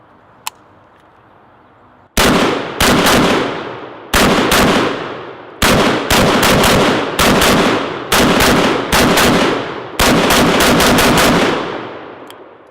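An M92 PAP short-barreled AK rifle fires in quick bursts outdoors, sharp loud cracks in clusters of two to five shots with brief pauses between strings, preceded by a quiet moment and a single faint click.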